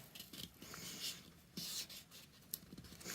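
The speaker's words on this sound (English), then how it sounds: "So we're going to go ahead and fold those down here." Paperboard pillow box being folded by hand: faint, soft rubbing and creasing scrapes with a few light taps, close and quiet.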